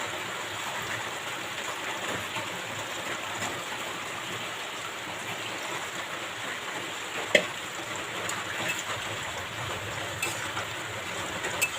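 Hot water poured onto fried masala in a pan for chicken gravy gives a steady, even hiss and bubbling that lasts the whole stretch, with one brief clink partway through.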